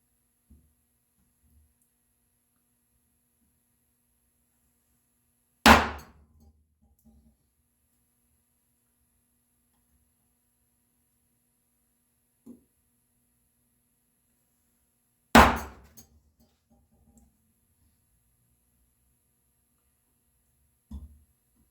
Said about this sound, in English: I'm just registering my chisel right up against that knife line. Going straight up and down.